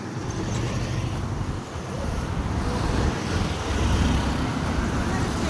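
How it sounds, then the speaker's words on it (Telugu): Road traffic in Vijayawada rumbles on as a continuous, dense wash of car and bus engines and tyre noise, loud and steady with slight swells as vehicles pass close by. "చూడండి ట్రాఫిక్ ఎలా ఉందో"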